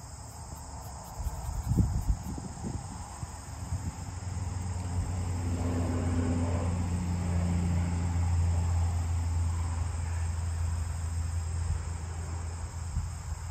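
Crickets chirp in a summer field beside a barn, a steady high shrill drone that carries evenly throughout, with a low distant rumble and a few brief rustles near the start.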